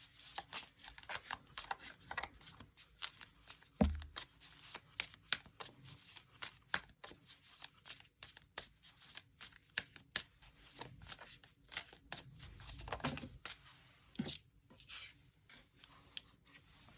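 Tarot cards are shuffled and laid out during a reading, giving soft, close riffling and sliding with repeated light taps and rubs throughout, quiet and without speech.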